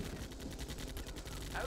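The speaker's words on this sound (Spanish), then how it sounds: "También estamos atrayendo más por el ruido de los disparos" Gunfire in the zombie survival strategy game They Are Billions rattles in rapid, evenly spaced bursts, a steady stream of shots with a voice faintly underneath.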